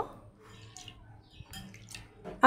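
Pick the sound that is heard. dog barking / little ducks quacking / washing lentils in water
washing lentils in water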